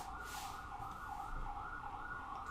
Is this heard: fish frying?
no